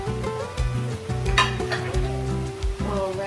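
Fajita meat and vegetables sizzle loudly in a hot pan over a burner set to high, with a steady fry hiss and repeated scraping, clanking stirs close by and no voices.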